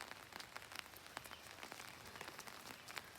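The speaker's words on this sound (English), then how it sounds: "It's raining." Steady rain falling outside an old house on a country property, a dense wash of close patter with scattered sharper drops striking a surface, faint and continuous throughout with no talking.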